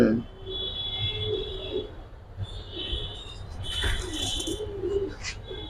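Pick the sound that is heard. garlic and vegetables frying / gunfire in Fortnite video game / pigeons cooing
pigeons cooing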